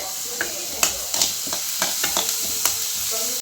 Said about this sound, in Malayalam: ഇനി ഇതിലേക്ക് ഈ ഇഞ്ചിയും വെളുത്തുള്ളിയും ചെറുതായിട്ട് മുറിച്ച് വെച്ചത് ഇതിലേക്ക് ഇടുന്നുണ്ട്